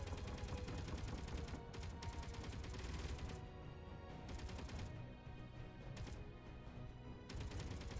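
Dense bursts of rapid automatic gunfire in the space-building game Space Engineers, loud and continuous with short gaps between volleys and no talking.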